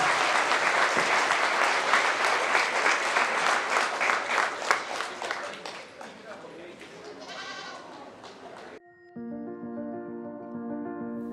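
An audience at the 2024 Paulding County Fair 4-H goat show applauds the showmen with a long, full round of clapping. It gradually tapers, then cuts off and gives way to a steady tonal sound.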